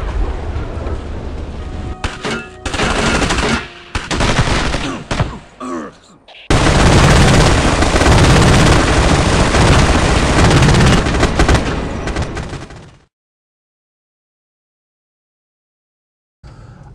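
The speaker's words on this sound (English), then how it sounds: "Soundelux set up a firing range and did some live weapon fires out there" Gunfire and machine-gun bursts from the Ghost Recon (2001) game soundtrack, loud dense rattling volleys with short gaps, then a long sustained roar that cuts to silence.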